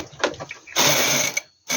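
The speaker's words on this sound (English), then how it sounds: "Then I'm going to knit one row." A knitting machine carriage is pushed across a row, giving a short rattling mechanical run with clicking and a continuous sliding rasp, close and fairly loud, alone without voices.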